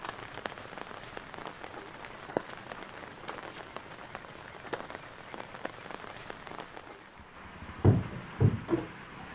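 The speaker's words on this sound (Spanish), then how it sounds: "Está lloviendo a cántaros" Steady heavy rain pours down, drumming on a surface with scattered louder drops, then a few sharper thumps near the end.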